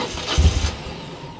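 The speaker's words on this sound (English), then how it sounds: "I just gave it too much throttle from cold" A cold engine, fitted with a choke, revs briefly after too much throttle: a short, low rumbling surge that fades quickly into a quieter steady hum, with no talking.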